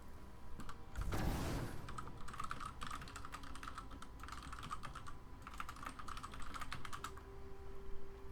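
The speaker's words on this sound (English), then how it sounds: "sorry about the typing" Rapid computer keyboard typing runs almost without pause, clattering in quick bursts of keystrokes at close range, with a louder thump or rustle near the start and no voices.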